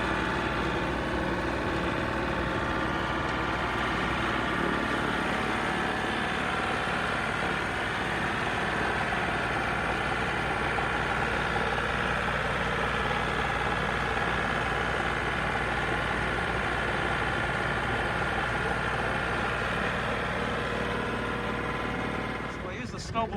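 A Mahindra 1635 tractor engine idles at a steady low throb throughout, with someone talking over it close by.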